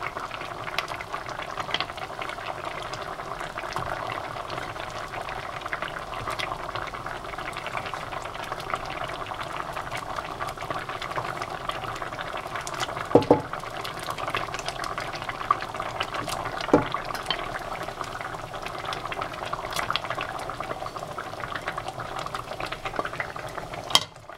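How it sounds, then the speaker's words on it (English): Tomato puree gravy boils in a pan for a sustained stretch, a steady close bubbling and popping with occasional louder plops, no voices. "Now the gravy has come to a boil."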